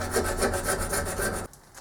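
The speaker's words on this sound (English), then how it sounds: "Alright, start scraping this in." A hand scraper works over the metal ways of a shaper column in quick, rhythmic rasping strokes. The strokes are close and loud, then break off abruptly near the end.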